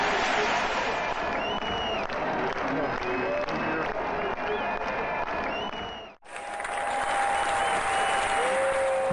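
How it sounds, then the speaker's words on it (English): Crowd cheering and clapping at the St Peter's Field rally in Manchester, 1819, a broad continuous roar of many people that cuts out abruptly and resumes. "They march into St Peter's Field to tremendous cheers."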